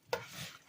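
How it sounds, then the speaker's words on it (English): A single brief, soft squelch comes from a hand working a meatloaf mixture with mushrooms in a bowl, followed by a faint fading rustle in a quiet kitchen. "I'm just going to go in and just mix it all up together here"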